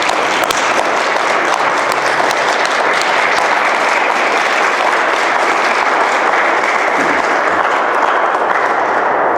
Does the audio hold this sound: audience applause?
yes